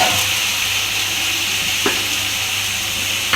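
Tomatoes, onion and curry leaves sauté in a pan for an okra stir-fry, giving a steady, close sizzle and crackle that runs unbroken throughout, with a couple of brief scrapes of stirring.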